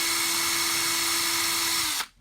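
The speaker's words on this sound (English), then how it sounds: "just being careful to drill high speed, so that you don't, the plastic can crack." A power drill spins at high speed through plastic, a steady whining drone with a constant tone that runs nearly two seconds, then cuts off abruptly as the bit breaks through. No talking is heard.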